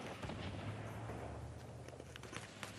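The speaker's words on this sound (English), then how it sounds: "Just a shitload of explosions all over the place." Scattered gunfire and explosion bursts from a Fortnite Battle Royale match crackle faintly over a continuous low hum, with irregular pops and thuds spread throughout.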